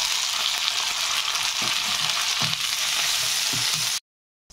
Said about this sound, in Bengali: ছানাটা 1 মিনিট ভেজে নেব।